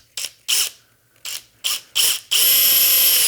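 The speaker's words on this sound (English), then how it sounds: "put this big step drill bit into the drill" A handheld drill with a large step drill bit works on a clamped part on a table, first giving several short ratcheting bursts, then running in a loud, continuous whine; no one talks.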